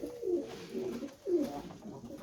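Pigeons coo inside an evening coop, with repeated low throaty rolling calls rising and falling in close succession, near and fairly clear against a soft background hum.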